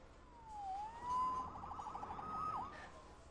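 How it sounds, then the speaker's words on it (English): A police siren in a Spider-Man video game, rising and falling in a wailing tone with a brief yelp, fairly faint and distant against quiet background noise. "Saved by the siren."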